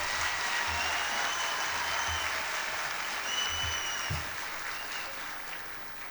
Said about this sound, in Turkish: Ben tüm ak kadınları alkışlamanızı yani kendinizi alkışlamanızı istiyorum